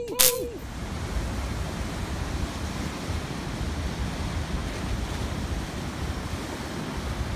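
Niagara Falls' rushing water roars as a dense, continuous wash close by, mixed with wind buffeting the microphone and a sharp brief sound at the very start.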